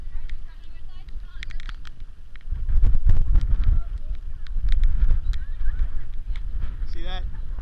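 Gusty wind buffets the microphone on open water near a boat at Lubber's Landing, with low rumbling surges, distant honking geese calls and people talking over it.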